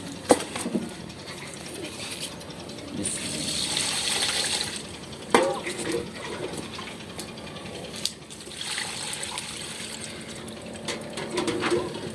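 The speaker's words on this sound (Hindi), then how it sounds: "चावल को धो लेते हैं हम" Rice is washed in water in a village kitchen, with close sloshing and swishing as grains are stirred and water is poured, rising and falling in waves with occasional clinks.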